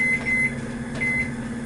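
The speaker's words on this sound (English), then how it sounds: "The timer on my microwave just went off." A microwave oven timer sounding in a home kitchen while pasta carbonara is cooked, with a steady electronic tone pulsing in short repeated beeps over a constant hum, fairly loud and alone without any talk.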